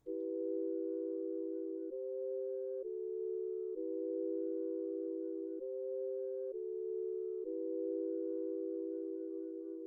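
Simple dark melody chords built from a one-shot kit in FL Studio play as soft, sustained synth tones, shifting through a slow repeating progression of long held chords with no other sound.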